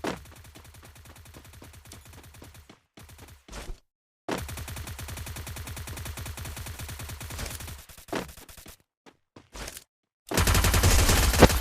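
Bursts of rapid automatic gunfire from a Free Fire ranked Clash Squad match, fired in several loud volleys separated by brief silences and ending in a dense, louder barrage.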